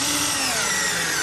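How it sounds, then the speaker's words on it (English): A power drill drives a screw into composite decking plank, a steady high whirring hum lasting about a second, close and loud. "then I screw each one in"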